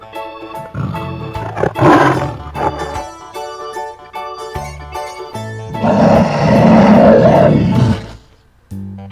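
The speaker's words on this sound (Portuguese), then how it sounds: "tigre" A tiger gives loud, rumbling roars, one short burst early and a longer sustained roar later, over light children's background music.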